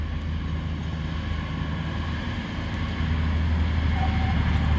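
A Class 220/221 Voyager diesel multiple unit pair, 220-022 leading 221-120, accelerates through Didcot Parkway with a steady low engine drone and rumble that swells gradually toward the end, with no voices.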